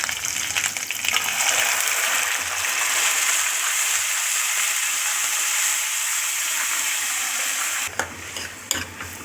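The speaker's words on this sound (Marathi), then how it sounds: "आता आपल्याला तेलामध्ये टाकायचं परतून घ्यायचं" Continuous hissing sizzle of a blended onion and tomato paste frying in hot oil, steady and close, then stirring clatters near the end.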